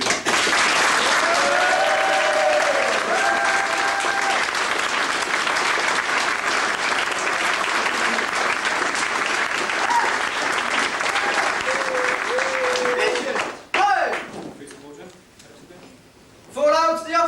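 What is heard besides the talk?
audience applause for staff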